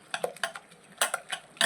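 A whisk beats green pea appe batter in a bowl, giving quick, sharp clicks and scrapes in uneven bursts, close and fairly quiet, with no talk.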